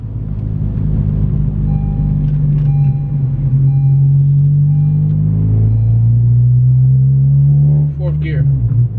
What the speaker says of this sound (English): So I'm gonna see if I can get in fourth gear, show you guys how fourth gear is.